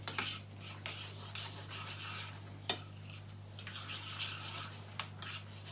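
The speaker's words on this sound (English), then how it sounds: "So we're just going to stir this in." A spoon stirs cottage pie mince with peas and boiling water in a pan, giving close, irregular scraping and rubbing strokes with a few sharper knocks against the pan and no voices.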